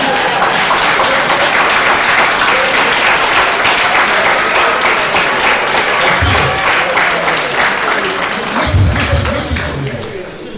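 Loud, sustained applause from a large crowd fills the whole stretch, dense and steady, with a few low thumps and cheers mixed in.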